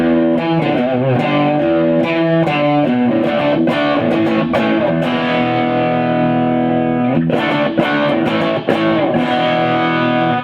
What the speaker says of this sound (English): This guitar sounds fantastic.